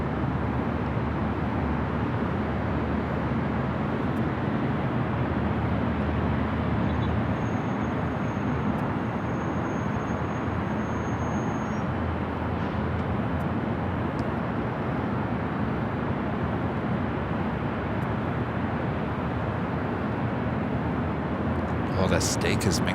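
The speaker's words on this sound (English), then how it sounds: "China Airlines will be heading to Tom Bradley, now crossing over 24 left here on the north side." A China Airlines airliner taxis across runway 24 Left at Los Angeles International Airport, producing a continuous broad jet roar at moderate distance with steady airport background noise throughout.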